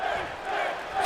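A crowd cheers for Finn Bálor at a Monday Night Raw show in WWE 2K19, a steady roar of arena voices at moderate level without a break.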